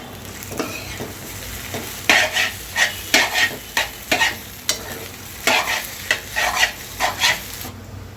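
Meal maker chunks and egg fry in a pan, stirred and turned repeatedly, so loud rhythmic scraping strokes of a spatula cut through a continuous close sizzle.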